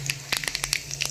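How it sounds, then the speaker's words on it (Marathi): Cumin seeds crackling in hot oil for a tempering, a quick run of sharp, close pops and snaps scattered irregularly over a low steady hum, with no voices. "जिरी घालूया फोडणीला थोडी."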